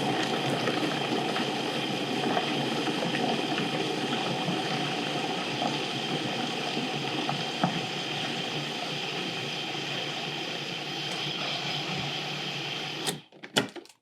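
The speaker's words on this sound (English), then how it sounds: "we're just going to get this like as fine as we can get it in the food processor" A food processor finely chops carrots for a homemade Bolognese in a cottage kitchen, its loud steady whirring drone running for about thirteen seconds before cutting off with a few clunks.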